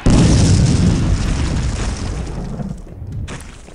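A Tibetan war cannon firing in the game Clive Barker's Undying, a single loud, deep booming blast that rolls and decays over a few seconds, with no talk.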